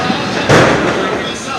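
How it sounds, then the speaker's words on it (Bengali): A single sharp firecracker bang, a sutli bomb or chocolate bomb, bursts from the middle of festive outdoor noise and fades quickly, with voices in the background. "সুতলি বম চকলেট।"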